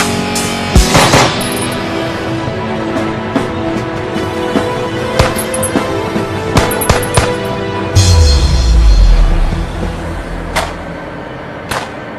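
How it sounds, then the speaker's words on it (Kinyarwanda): Scattered sharp cracks of distant gunfire, irregular single shots and short bursts, with a deep rumble swelling near the end. "amasasu ari kuvugira kure ari kuvugira hakurya de ukene cyane barimo bararasa"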